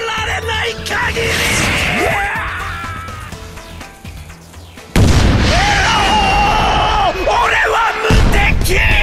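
Loud booming fireworks bursts with whistling, rising tones and crackles, layered with excited yelling voices in a busy game soundscape from Sengoku Basara 3 Utage.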